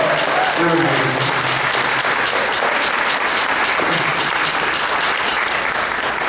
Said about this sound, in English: So can we give them a round of applause because they're amazing?